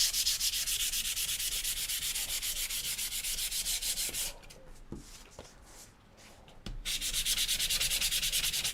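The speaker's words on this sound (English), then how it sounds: "So I'm going to sand this horizontally." Hand sanding across painted wood in horizontal strokes makes a steady, rapid rasping scrape that runs close and continuous. A short pause with a few light knocks comes midway, then the rasping resumes.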